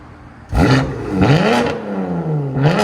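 A 2019 BMW M2 Competition with its 3.0-litre twin-turbo inline-six and Valvetronic exhaust valves open, revved in short sharp bursts: loud, close blips that rise and fall, three in quick succession.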